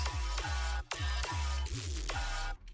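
A harsh, atonal processed tone from a spectrum-shifting audio plugin, before tuning, pulses in repeated bursts, about five evenly spaced hits with sharp attacks and metallic, smeared overtones, no talking.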